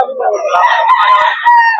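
A rooster at a chicken breeder farm in Bocaue crows one drawn-out, loud call up close, its harsh wavering notes rising and falling over about a second and a half.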